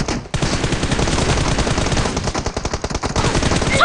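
Automatic gunfire in a first-person shooter video game: a loud, rapid, unbroken stream of shots lasting several seconds, close and dense, with no talk over it.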